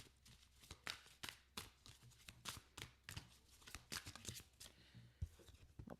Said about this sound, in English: this is obviously a live shuffle